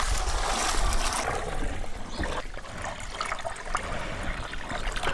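Cold water is poured onto quicklime in a container, giving a steady rushing, trickling pour that runs for several seconds at moderate loudness and eases slightly toward the end.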